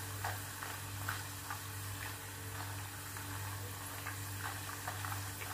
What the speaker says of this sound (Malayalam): നമ്മുടെ ചിപ്സ് ക്രിസ്പായി വരുന്നതിൻ്റെ സൗണ്ട് കേട്ടില്ലേ?